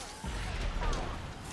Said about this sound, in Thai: ไอ้ระเบิดจากไหนนะ